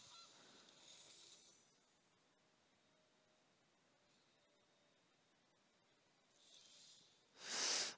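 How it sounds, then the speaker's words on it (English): Two loud goose honks, a shorter one near the start and a stronger blast at the end, separated by quiet hissy background with no talking. "Goose."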